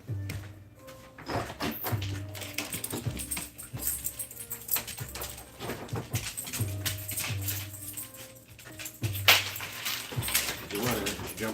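Puppies whimper and yip in short, scattered bursts as they are brought indoors, mixed with nearby shuffling and door noises.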